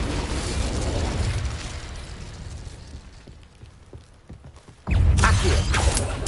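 An Incendio fire spell cast in the wizarding game Hogwarts Legacy, a dense roaring burst that fades over several seconds into quieter crackles before another loud fiery blast erupts near the end.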